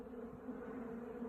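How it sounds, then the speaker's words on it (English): Small wasps buzz near a beehive in an apiary: a faint, continuous low hum of wings, steady and close, with no talking. "I don't know what kind of wasps these are"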